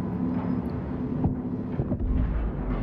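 Explosions in the video game INSIDE come through as a heavy, continuous low rumble and roar with deep booming swells, loud and sustained throughout without distinct separate blasts.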